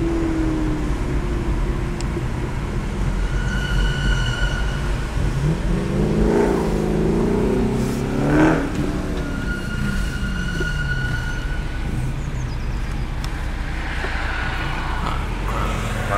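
Veritas RS III prototype sports car at the Nürburgring, its engine swelling as it approaches and passes and then fading, a steady mid-distance road roar with a brief louder peak, no talking.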